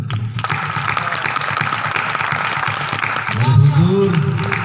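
Audience at a national Hindi poetry gathering (kavi sammelan) at a fair in Bhawani Mandi breaking into loud clapping across the whole clip, with a voice speaking over it near the end.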